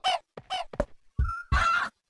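A chicken in the video game Cloning Clyde gives a quick run of short clucks, then a longer, squawking cry, fairly close and with no talking over it.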